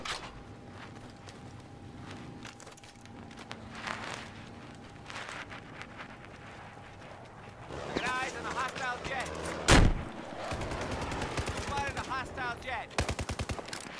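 Battlefield 4 gunfire: after a quieter stretch, rapid automatic M4 bursts and loud single shots break out, including one heavy blast, with footsteps and players talking over the game sounds.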